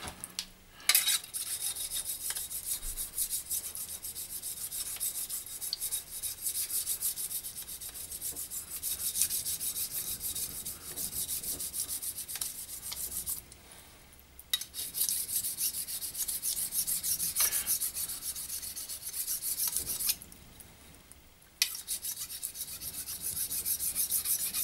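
A knife is sharpened on a wet whetstone, making continuous rhythmic scraping and rasping strokes up close that run for about twenty seconds, with two brief pauses along the way.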